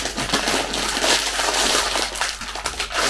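Wrapper of a truffle-like candy being opened, giving a continuous close crinkling and crackling of paper or foil for about three seconds, with no talk over it.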